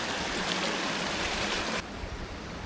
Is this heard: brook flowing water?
yes